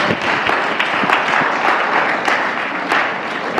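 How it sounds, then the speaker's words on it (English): Audience members at a young professionals forum clap steadily and loudly throughout, a dense, continuous burst of applause from a room full of people. "Clap for this idea from Mrs."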